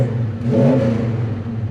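A 1970 Chevelle V8 fitted with a Holley Double Pumper carburetor revs up cleanly from idle, a loud close rumbling swell that peaks and then settles back into a steady throaty drone.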